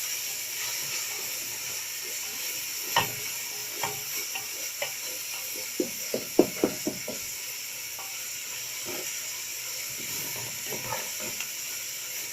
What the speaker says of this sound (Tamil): தயிர் எல்லாத்துலேயும் நல்லா மிக்ஸ் ஆகணும்